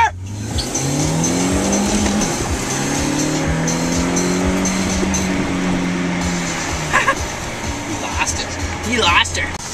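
Cars racing in a Pullen vs Mitchell contest, engines revving and rising in pitch through the gears with a loud, close, sustained roar and some tire noise, while people talk over it.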